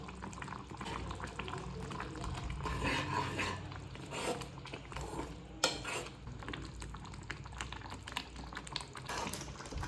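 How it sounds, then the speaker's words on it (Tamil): Tomato chutney with a pinch of asafoetida simmering in a pan, a faint low bubbling with soft clinks and stirring scrapes, quiet and steady throughout. "இந்த பாருங்க, சட்னி நல்லா கொதிச்சிருச்சுப்பா"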